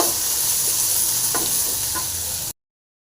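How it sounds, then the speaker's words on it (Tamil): Onions sizzle and crackle steadily in hot oil, with a couple of faint stirring scrapes, before the sound cuts off abruptly. "இப்போ வெங்காயம் நல்லா ஃப்ரையாக இருக்குது"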